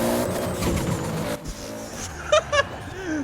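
An X-Class Toyota AE86 in Forza Horizon 4, its engine droning loud and close, then dropping off before two short tire squeals near the end.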